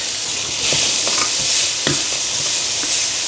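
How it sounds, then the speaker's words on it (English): Spice mix frying in coconut oil in a hot pan, a steady bright sizzle with occasional scraping stirs, close and continuous, no voices. "I add about 2 tablespoons of coconut oil, and I throw in the spice mix"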